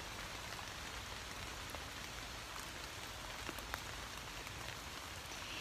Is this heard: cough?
no